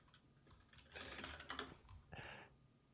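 Someone typing on a computer keyboard nearby: quiet, fast clusters of key clicks in irregular bursts, heard alone without talk.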